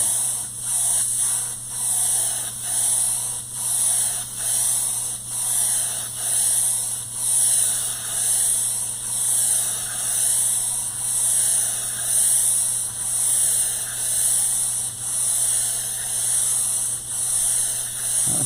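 Primer spray coat going onto a substrate, a long steady hiss pulsing in even waves as the spray sweeps back and forth, close and continuous, with no talk.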